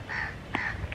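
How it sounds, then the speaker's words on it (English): Crow-like birds caw near the ocean in Zanzibar, a few harsh calls spaced across a steady outdoor background, moderately close and clear with no talking. "You can hear the birds singing."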